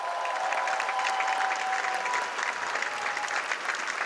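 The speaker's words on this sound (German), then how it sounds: "Der Jubel ist für euch." Theatre audience applauding steadily at the close of a live musical performance, a dense continuous wash of clapping heard alone without voices.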